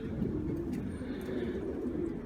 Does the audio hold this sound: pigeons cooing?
yes